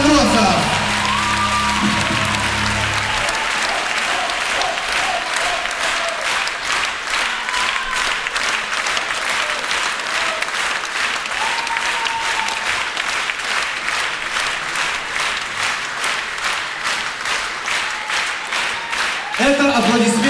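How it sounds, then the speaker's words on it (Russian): Audience at a comedy league competition at Kyiv Polytechnic gives sustained, steady applause for about twenty seconds; a voice is heard briefly at the start. "Это аплодисменты не вам"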